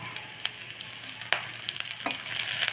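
Curry leaves hit hot oil and fry with a steady close sizzle, a few sharp crackling bursts and faint stirring clinks over about three seconds, with no talking.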